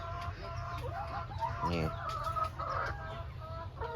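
KUB chickens kept in battery cages cluck and squawk close by in a busy, overlapping chorus, with a short spoken word heard among them.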